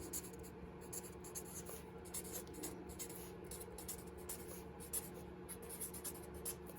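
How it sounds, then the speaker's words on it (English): Close, quiet scratching of marker tips on paper, a continuous rhythm of short strokes and squeaks. "right now I hear my markers scratching"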